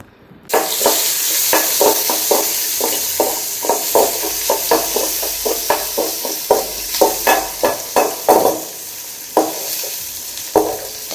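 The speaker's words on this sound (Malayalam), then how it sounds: "അപ്പോൾ നമുക്ക് കടുക് പൊട്ടിച്ചാലോ?" Mustard seeds splutter and crackle in hot oil in a pan in a home kitchen, starting with a loud sizzle and then breaking into a run of sharp, irregular pops that continue to the end.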